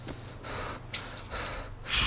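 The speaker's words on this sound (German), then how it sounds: "Schnauft wie ein Esel." A DayZ survivor character snorts and pants heavily like a donkey, several rough breaths in quick succession, close and alone without speech.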